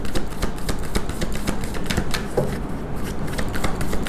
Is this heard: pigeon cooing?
no